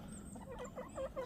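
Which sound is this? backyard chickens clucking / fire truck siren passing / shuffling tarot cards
backyard chickens clucking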